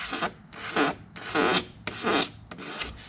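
A scraper dragged over boat gelcoat, taking off fine shavings in a series of five close, rasping strokes with steady rhythm and short pauses between them.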